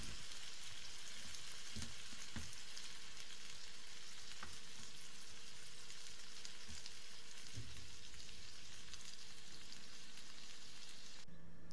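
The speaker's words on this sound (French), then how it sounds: "Ensuite, on vient y déposer nos tomates. Et on laisse mijoter" Tomatoes for Turkish menemen simmer in a pan with a soft, continuous frying hiss and a few faint taps. The sound is fairly quiet and steady throughout.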